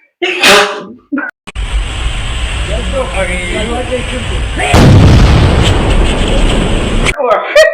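A single sharp sneeze, set off by spicy seasoning while cooking hake with vegetables, bursts out loud and close, followed by a long noisy stretch. People talk just before and after it.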